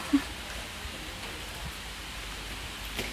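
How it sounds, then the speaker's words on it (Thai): Steady soft hiss of rain spattering on a surface, even and continuous, with no voices. "ฝนมันสาด"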